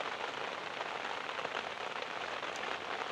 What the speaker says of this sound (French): Il commence à pleuvoir un peu plus fort.